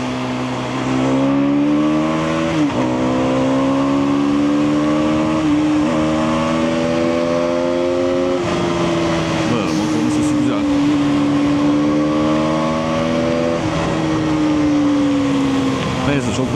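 An Aprilia RS125 motorcycle engine drones and revs while riding, pitch rising and falling through several gear changes, loud and close for the whole stretch.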